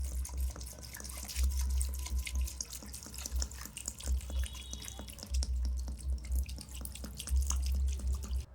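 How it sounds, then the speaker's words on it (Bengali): Soaked urad dal is washed in running water, with a steady tap stream, splashing and sloshing as the lentils are swirled and rinsed, close and continuous without speech. "আট ঘন্টার পর ডালটা আমি ভালো করে ধুয়ে নেব"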